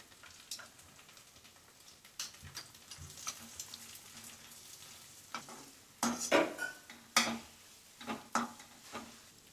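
Eggs are stirred into sautéed masala in a pan for egg fried rice, with irregular scraping and clacking strokes of a spatula over a soft sizzle, getting louder and busier in the second half.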